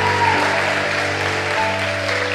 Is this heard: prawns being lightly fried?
no